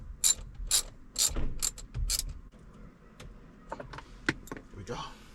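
A ratchet turning a screw out of the multi-function switch on a Ford F150, with several short, sharp bursts of close clicking separated by brief pauses, then scattered lighter clicks and handling noise.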